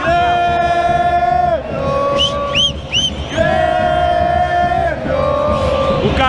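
A Grêmio stadium crowd roars in sustained chanting, a loud massed singing with long held tones rising and falling, plus a few whistles and shouts breaking through in the middle.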